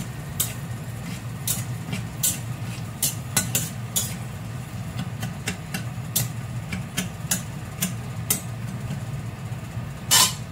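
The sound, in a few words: peanuts frying in salted oil, stirred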